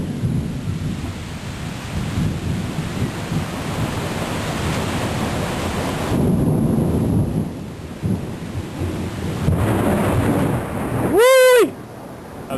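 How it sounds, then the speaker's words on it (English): A thunderstorm recorded from a porch, with steady rain hissing and a low rumble of thunder rolling beneath it, loud and continuous throughout. "Got a thunderstorm going on here, man. You can hear the rain coming down."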